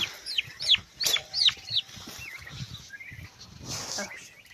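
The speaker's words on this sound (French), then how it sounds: "Donc ce sont des petits dindons gris." High, thin chirps and peeps from young grey turkeys come in short bursts over a low, steady murmur of farmyard background noise.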